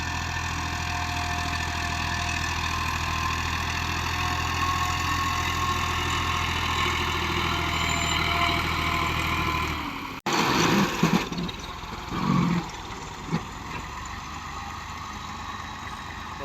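A 260 tractor with a cotton planter idles with a steady, even engine drone for about ten seconds, then the sound cuts off abruptly and gives way to scattered clunks and rustling.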